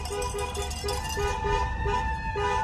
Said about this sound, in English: Let's honk the horn.